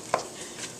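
A single faint knife chop through jalapeno peppers on a cutting board, one short crisp knock over quiet room tone.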